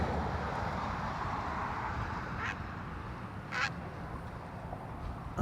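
Bird calling at Lake Guntersville, a couple of brief distant duck-like quacks over steady wind or water noise.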